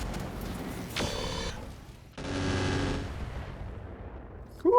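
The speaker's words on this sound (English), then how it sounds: "the Firestarter can get in position to shoot all of its weapons" A Firestarter mech in Roguetech fires all its weapons in an alpha strike: two loud sustained roaring bursts of weapon fire a second apart, each fading into a lingering rumble.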